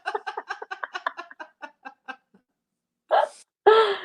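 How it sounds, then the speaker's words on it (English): A bird calls close by, with a quick run of clucking chirps that slows and fades, then two longer, harsher squawks after a short pause. "Just a regular bird tweeting by."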